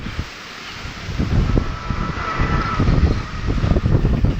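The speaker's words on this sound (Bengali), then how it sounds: "এত পরিমাণে বাতাস হচ্ছে" Strong, gusty wind before a Kalbaishakhi storm in Bogura, Bangladesh, roars and buffets the microphone, swelling in rising waves.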